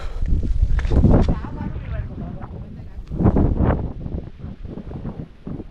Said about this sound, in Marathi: वारा सुटला चांगला.